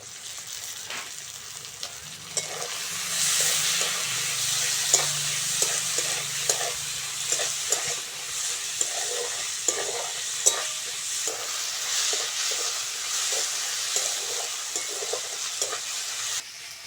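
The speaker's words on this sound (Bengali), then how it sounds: "টমেটো আর পেঁয়াজটা ভালো করে ভেজে নিয়েছি।" Chopped tomato and onion frying in a pan for a new-potato aloo dum, a continuous bright sizzle with repeated spatula stirring clicks and scrapes over about seventeen seconds.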